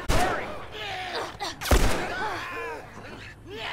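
Gunshots in The Last of Us video game: a couple of sharp, loud reports, one at the start and a bigger one midway, amid anxious talking and groaning voices.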